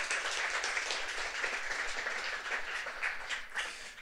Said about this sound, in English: So please, warm applause and warm welcome to Paula Klančić